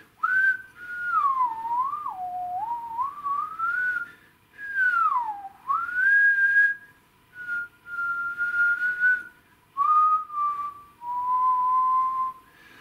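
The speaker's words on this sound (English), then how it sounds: "And if I whistle," A person whistles into a microphone, producing clear sliding and wavering tones in several separate phrases with short pauses between them, alone in a quiet room.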